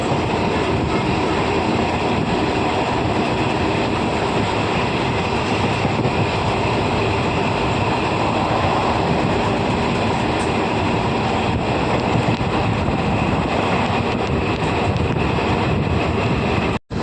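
A continuous heavy rumble of the Kozhikode Jan Shatabdi Express rolling past, steady and loud throughout, with wind buffeting the microphone, ending in a sudden cutoff.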